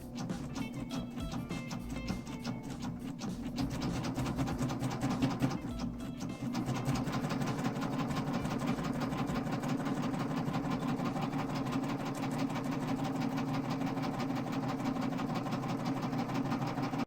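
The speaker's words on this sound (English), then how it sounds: "Now what I'm doing is I'm using the cover stitch to attach the two ties together." A serger running a triple cover stitch to join fabric apron ties, a steady close mechanical whir and rapid needle clatter that runs almost without pause and picks up slightly after a brief slowdown near the start.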